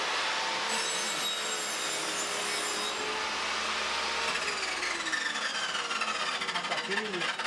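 A machine in Ghana trims palm tree raw material for toothpicks, giving a steady, loud rasping and grinding that scrapes on continuously, with faint talk underneath.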